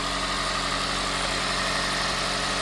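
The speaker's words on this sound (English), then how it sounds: "I'm just going to go in front and let you hear the sound of the engine." A hybrid vehicle engine idles just after being jump started from a gas vehicle, a loud, steady, dense mechanical drone with constant vibration and no change in pace, heard close up and alone.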